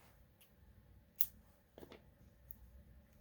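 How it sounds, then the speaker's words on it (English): A single crisp snip of scissors cutting crochet yarn, with a fainter second snip afterward, close and quiet against soft room noise and no voices. "So from here you can cut the yarn."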